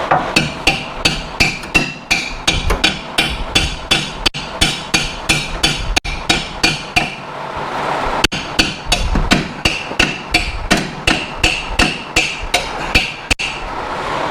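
A hammer strikes car disc brake parts during a disc brake conversion on a 1960s muscle car, delivering rapid, sharp metallic blows in an uneven series of steady beats, close and loud, with brief pauses between bursts.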